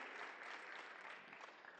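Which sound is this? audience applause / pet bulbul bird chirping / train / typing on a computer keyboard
audience applause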